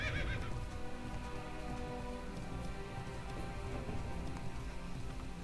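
A horse whinnies once as it is mounted in the World of Warcraft video game, a short call near the start over steady rain pattering in Dustwallow Marsh, with faint hoof clatter and no speech.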